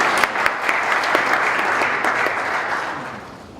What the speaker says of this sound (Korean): 박수로 맞아주시면 감사하겠습니다.